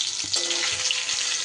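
Chopped tomato lands among potatoes frying in a pan, a steady hiss of hot oil with a brief wet thump and a few crackles as it hits, close and without talk.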